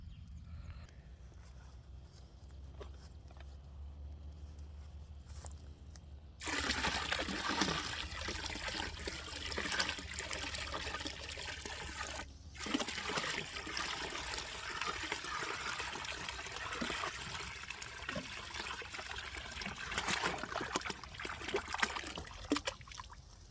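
Liquid JADAM microbial solution is poured onto biochar, beginning with a faint trickle and then becoming a sustained, close gush of splashing liquid that continues steadily, with a short pause partway through.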